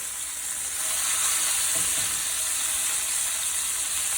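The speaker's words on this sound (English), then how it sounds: "We got plenty of grease up in here, so we'll just throw these in here." Porterhouse steaks sizzle loudly in a well-greased pan, a dense continuous hiss that swells as the meat goes in and holds steady throughout.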